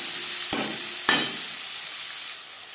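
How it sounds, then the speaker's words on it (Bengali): Chopped onion frying in refined oil in a wok, a close, steady hiss and sizzle broken by two sharp scraping stirs near the start, with no voices. "কড়াইতে দিয়ে দিয়েছি 4 চামচ রিফাইন্ড অয়েল। দিয়ে দেব পেঁয়াজ কুচি।"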